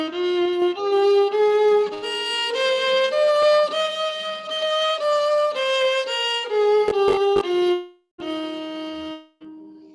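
Seven plain notes of a Carnatic scale sound one after another without ornamentation, a sustained melodic instrument moving stepwise up and back down, loud and close, ending with a couple of short separate tones.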